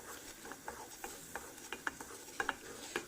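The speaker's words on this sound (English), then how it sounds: "You keep mixing it. Keep mixing it for a few minutes." A spoon stirs turmeric milk with cardamom and crushed pepper, producing soft, regular scraping clinks against the pot roughly twice a second, quiet and close, with no talking.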